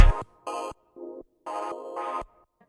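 Piano part from an electronic music mix, played solo as a few short, evenly spaced chord stabs with gaps between them, moderately loud and clean with no voices.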